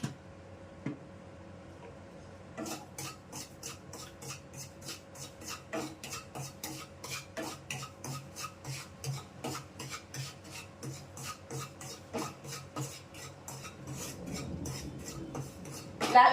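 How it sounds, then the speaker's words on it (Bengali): Semolina frying in ghee in a pan gets stirred with a rhythmic, quiet scraping and ticking, a steady series of short rasps close up with no talk. "ঘি দিয়ে ভাজতে হবে।"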